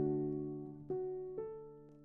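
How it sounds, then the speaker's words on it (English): Felt piano, soft and intimate: a few gentle, muted notes struck one after another, each fading slowly, quiet and close with no other sounds. "Felt piano was chosen for Lynn. It is soft, intimate, a little fragile."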